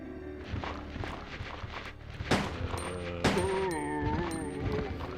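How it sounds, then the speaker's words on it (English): Crossbow shots in the survival horror game Resident Evil 2 land as two sharp impacts amid a dense, loud game soundscape, with tonal music swelling over the action. "take the crossbow and waste my last 2 shots"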